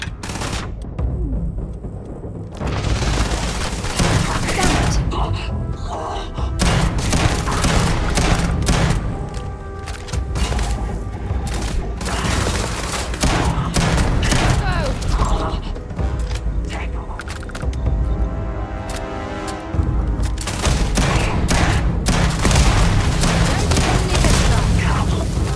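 Gunfire in the video game Starfield, with dense bursts of shots and booms running almost nonstop, loud and close, layered with game effects and a voice talking over it.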